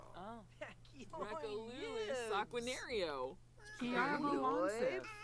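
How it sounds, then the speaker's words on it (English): A cat in The Sims video game meows repeatedly, a string of bending, wavering cries close and clear, with a faint steady hum underneath and no talk. "it's always good to see Zoe the cat again."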